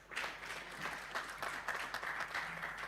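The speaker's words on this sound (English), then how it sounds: "I think he deserves a better round of applause." An audience at a business development services standards launch applauds, a steady wash of many hands clapping throughout, moderately distant and fairly quiet, with no talk over it.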